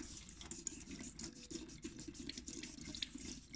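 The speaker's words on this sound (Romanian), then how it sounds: "am dat cu șmirgăl și cu apă" Wet sanding of a scratched plastic Suunto watch screen with sandpaper and water, faint rhythmic scrubbing strokes with trickling, tap-like water throughout.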